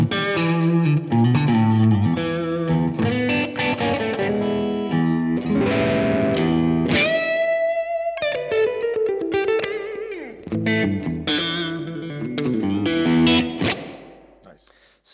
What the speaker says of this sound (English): So we can go to a room reverb. Let's crank it up so we can hear exactly what's going on there.